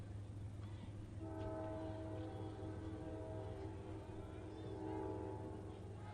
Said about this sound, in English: that's the train that's like 50 yards off the side of the field